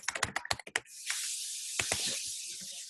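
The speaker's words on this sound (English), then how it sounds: "you just type in your name" A name typed on a computer keyboard: a quick burst of close, crisp keystrokes, then a steady hiss broken by a few scattered taps.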